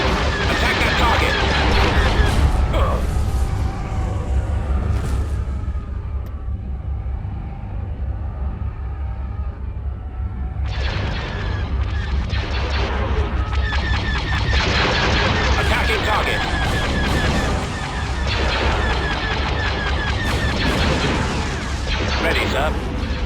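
Laser and cannon fire boom in a dense, continuous space battle in Star Wars: Empire at War, with rumbling blasts layered over clipped radio voices.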